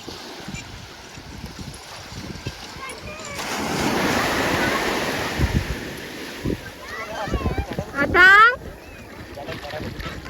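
Broad roaring wash of sea surf on a beach swells and fades over steady wind noise, with a loud gusty burst near the end.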